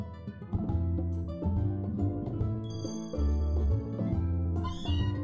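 Meowth's cat-like meow cry from Pokémon Ultra Sun sounds over loud background game music, with a few short meows and a jingling chime near the end.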